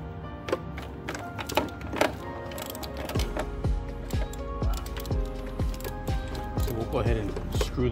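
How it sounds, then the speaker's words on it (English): Impact driver hammering tight screws loose while removing the thermostat housing on a 2015 Chrysler 200, a rapid rattling burst of impacts repeating in short runs close to the microphone. "Impact is always the best way to get tight screws off."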